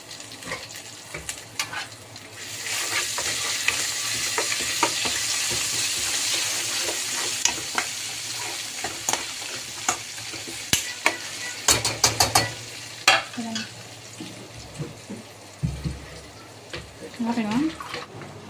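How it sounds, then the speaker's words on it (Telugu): Spices for tempering crackle and sizzle in hot oil, a dense hiss with scattered pops, followed by clattering utensils and a voice speaking intermittently, while cooking a raw green banana curry. "అది పోపు అయితే వేగిన తర్వాత"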